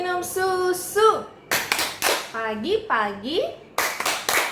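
Children and a teacher clapping along to the Indonesian Sunday school action song Tepuk Minum Susu, with sharp claps in short rhythmic groups between bursts of sung words.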